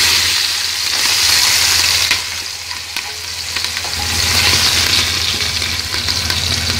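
Meat sizzles steadily in a pot while being stirred, a loud continuous frying hiss with scraping stirs, for a Bedouin-style lamb mandi being cooked.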